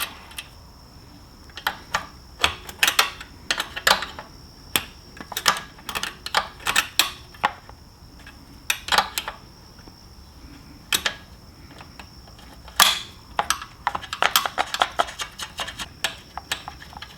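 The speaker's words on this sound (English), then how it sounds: "So using a 10mm wrench, you can back the lock nuts off of these cables" A 10mm wrench works the lock nuts off the cables on a Yamaha WR250R motorcycle, producing close, irregular bursts of small metallic clicks and ticks separated by brief pauses.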